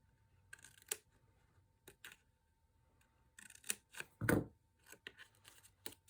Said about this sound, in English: you're going to cut up the vertical to where it meets the horizontal and just cut a little snippet out there